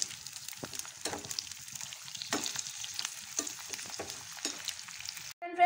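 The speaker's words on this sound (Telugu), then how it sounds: "ఇది బాగా ఫ్రై చేసుకోవాలి" Green beans sizzle in hot oil, a continuous crackling fry broken by several sharp scraping stirs spaced roughly a second apart, close and moderately loud.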